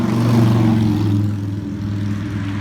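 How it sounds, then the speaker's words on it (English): A motorcycle passes on a street near a walkway by a coffee shop, its loud, steady low engine drone easing slightly as it goes by, with no talk. "Noise pollution, motorcycle."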